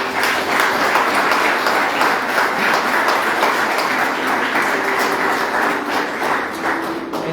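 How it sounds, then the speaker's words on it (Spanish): Church congregation clapping loudly and continuously at a Spanish-language service, a dense, sustained round of applause filling the room, holding steady for several seconds. "Vamos a darle un fuerte aplauso al Señor."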